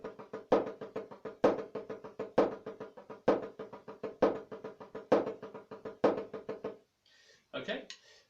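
Drum sticks play accented groups of six strokes with grace notes, a steady run of sharp, close hits with a loud accent at the head of each group, then a short pause and a few quieter taps at the end.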